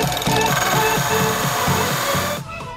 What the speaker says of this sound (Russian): Перед тем, как выпилить нашу форму, нам надо заранее просверлить отверстие для патрона.